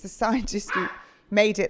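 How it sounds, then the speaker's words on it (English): A dog barks and yips a few quick times in a short burst, mixed in with someone talking indoors close by. "that's my dog"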